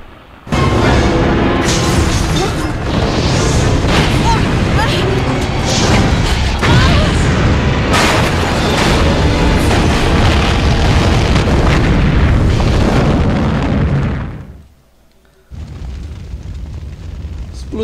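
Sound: explosion in a Resident Evil 3 Nemesis video game cutscene

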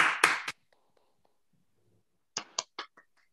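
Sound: audience clapping for the speaker

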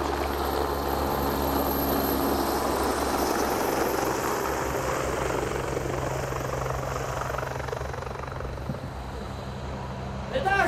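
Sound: aircraft engine flying overhead

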